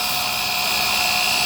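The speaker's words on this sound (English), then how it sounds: "Let's try the wire wheel first, because I think there's a lot of dust on there." Wire wheel on a power tool scrubbing dust and grime off the old steel fuel tank of an OBS Ford F-150, a steady, loud high-pitched grinding whir with no pauses.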